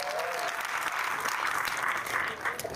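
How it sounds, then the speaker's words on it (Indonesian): An audience claps at a public talk by Anies Baswedan, a dense, even patter of many hands sustained throughout, moderately distant with no voices standing out. "Tepuk tangan buat teman-teman semua."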